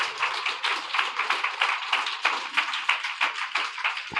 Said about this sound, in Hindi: जोर से एक बार ताली बजाओ